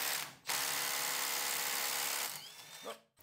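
A compact 12-volt impact wrench rattles steadily against a stubborn set screw, a near, buzzing hammering burst of about two seconds that starts abruptly and tapers off, with no talking.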